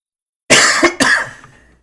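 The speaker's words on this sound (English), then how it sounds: "Sorry, I keep on coughing." Two quick, loud coughs sound close up, one right after the other, the second trailing off.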